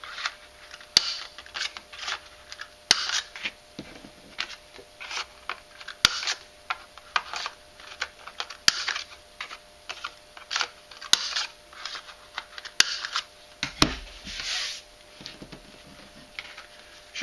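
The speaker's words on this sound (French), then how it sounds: "je découpe les angles arrondis sur les deux cartes avant de les superposer" Rounded corners being cut on paper cards with scissors, a steady run of small crisp snips and clicks, close and fairly quiet, with no talking.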